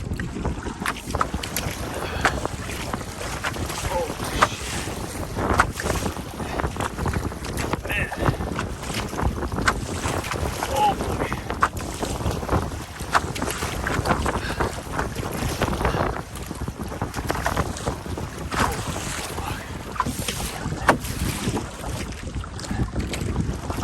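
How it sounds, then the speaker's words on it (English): A canoe is paddled solo across open water in Algonquin Park against a strong headwind with whitecaps. Loud, continuous wind buffets the microphone, and water rushes and sloshes close by throughout. "This is rough. Whitecaps, strong headwinds. It's going to be a brutal paddle."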